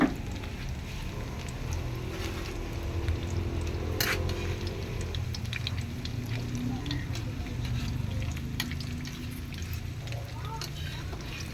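Tofu and pork fry and sizzle in a pan, a steady crackling hiss with occasional stirring scrapes, while a person talks over it.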